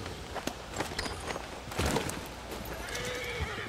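A horse in the video game Red Dead Redemption 2 whinnies amid the clip-clop of hooves, with scattered footstep-like thuds and game ambience, fairly quiet and mid-distance.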